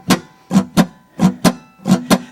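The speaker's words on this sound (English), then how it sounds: "we can do the strumming pattern with even 8th notes or swung 8th notes." Acoustic guitar strummed in a swung eighth-note pattern with the up strums delayed, a steady loping groove of down-and-up strokes, close and loud with no talking.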